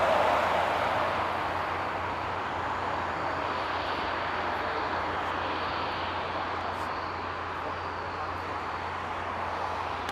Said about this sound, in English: I'm gonna let you all enjoy the aerologic docking and turning its engines off